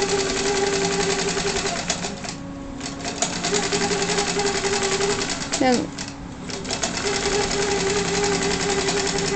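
A Q-Bot computer-guided quilting machine stitches a pattern across a quilt. Its needle runs in a rapid, steady mechanical chatter with a brief pitch-sweeping whir partway through, while a person talks over it.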